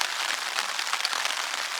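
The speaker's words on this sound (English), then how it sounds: "Rain's been falling" Steady rain pattering on a campsite on a wet morning along the South West Coast Path, a dense continuous hiss of drops with no talk.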